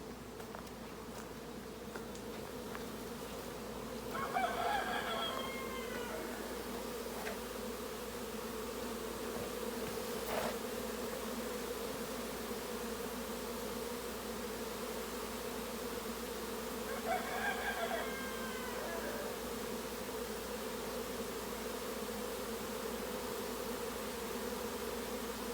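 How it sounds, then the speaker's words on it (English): A honeybee mating swarm fills a backyard with a steady, faint buzzing hum, with a couple of louder passes of bees flying close by. "It could be that a queen came back with a bunch of bees."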